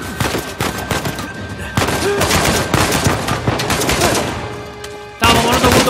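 Rapid gunfire in a Uncharted 4 firefight, dense bursts of automatic shots rattling continuously and loudly for several seconds, with a sharp louder burst near the end.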